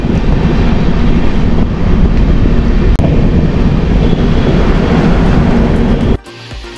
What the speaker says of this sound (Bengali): উড়িষ্যার রাজধানী ভুবনেশ্বরের দিকে এগিয়ে চলেছে আমাদের ট্রেন।